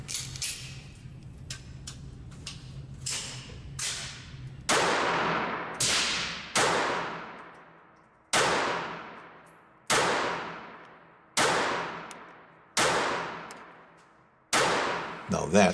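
A KelTec P32 semi-automatic micro-pistol fires at a target 18 feet away: a string of about a dozen sharp, loud reports, some quick and others spaced a second or two apart, each with a short echoing decay.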